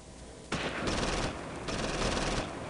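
Sustained gunfire from the Close Combat WWII Normandy hedgerow strategy game, a dense rattling burst of machine-gun and rifle fire that starts abruptly and continues in pulsing waves, loud and without talk.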